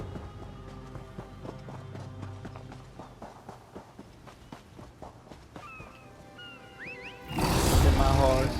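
Galloping horse hooves in The Elder Scrolls Online, a steady clip-clop rhythm under game music and talk, ending in a loud burst of noise near the close.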